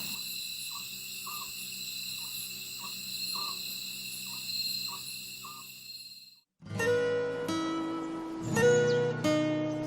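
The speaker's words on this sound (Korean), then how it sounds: "지금 풀벌레 소리, 새소리 이런 것들이 나중에 이 반딧불이랑 같이 기억될 것 같다는 생각이 드네." Grass insects trill in a steady high chorus at night, with short repeated calls pulsing regularly beneath; after a brief gap, a denser, brighter layer of calls rises, close and continuous, with no talking.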